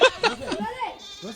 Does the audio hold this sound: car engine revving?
no